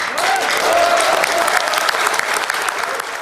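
Party officials give a big round of applause for a candidate who has conceded a primary defeat. The clapping is loud and close, and it rolls on for about three seconds.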